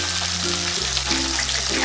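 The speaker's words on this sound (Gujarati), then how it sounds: "હવે આપણી ડુંગળી બ્રાઉન થઈ ગઈ છે. હવે એમાં નાખીશું સમારેલું ટમેટું." Chopped tomato goes into browned onion in a hot pan. A close, steady sizzle shifts in tone as the tomato lands, with no talking.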